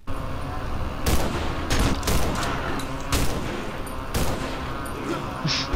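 Shotgun blasts in the horror video game Cry of Fear, several loud booming shots spaced about a second apart over a constant noisy game background.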